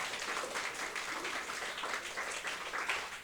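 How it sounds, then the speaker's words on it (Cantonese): An audience applauds at a Chinese chess award ceremony for special education students in Hong Kong, giving steady, dense clapping for a few seconds with no talk over it. "熱烈咁樣去鼓勵佢哋，俾啲掌聲佢哋"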